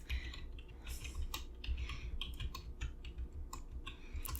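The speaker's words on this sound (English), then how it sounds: "go ahead and type in your details" Soft clattering keystrokes on a computer keyboard during a quiet librarian roleplay, irregular bursts of close, crisp taps with brief pauses between them.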